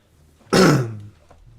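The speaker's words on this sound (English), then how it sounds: "Excuse the cough." A single sharp, throaty cough, close and loud, rising abruptly and fading within half a second in an otherwise quiet room.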